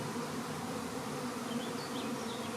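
A May swarm of honeybees fills the air with a dense, steady buzzing drone, close and continuous throughout with no break or voices.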